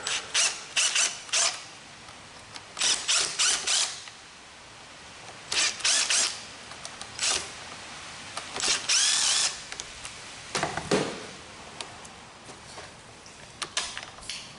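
A Phillips screwdriver working screws out of a Stihl edger, giving repeated short ratcheting, clicking bursts with pauses between them, close and fairly loud, with no talking.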